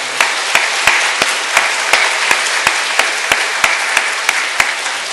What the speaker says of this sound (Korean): 우리 각 가정의 영웅들에게 박수 한번 쳐주세요.